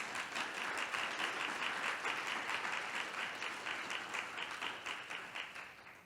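Audience applause, a dense, steady wash of many hands clapping at once, fairly faint and distant, sustained for several seconds and slowly tapering near the end with no talking.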